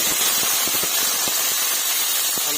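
Cut eggplant pieces fry in hot oil in a pan, giving a loud continuous sizzling hiss with small pops and crackles throughout.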